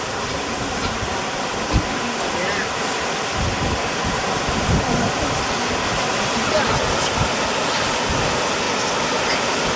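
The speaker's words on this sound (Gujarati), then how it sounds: "નારું જે છલ્યું છે અને છલ્યું હોવાથી તૂટી જાય છે વારંવાર" Floodwater overflowing through a ravine stream crossing in the rainy season makes a loud, constant rushing roar, dense and unbroken, with faint thumps mixed in.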